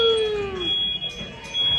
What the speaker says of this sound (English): Set off the alarms a second time.